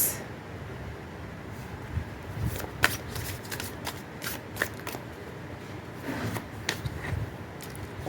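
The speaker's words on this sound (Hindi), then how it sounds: "मैं पहले ओरेकल कार्ड्स निकाल रही हूँ, फिर मैं आपके लिए टैरो कार्ड्स भी निकालती हूँ।" Oracle cards being shuffled by hand, a close run of crisp riffling and flicking snaps with uneven clustered bursts, no talk.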